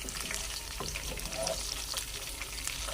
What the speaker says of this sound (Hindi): यहाँ जी हमने ज़ीरा और गोल मिर्च, हरी मिर्च का इस तरह से तड़का लगाना है